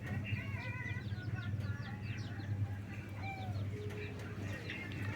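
A junglefowl hen clucks repeatedly in short bursts over a low steady hum, with other birds chirping faintly in the background.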